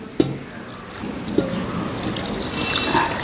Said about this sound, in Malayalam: ശാലം ചൂടുവെള്ളം ഒഴിക്കാം